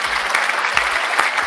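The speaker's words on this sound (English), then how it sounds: "Can you guys hear the applause?" A steady wash of audience applause at a live talk show, many hands clapping together in a dense, even patter with a few louder claps poking through.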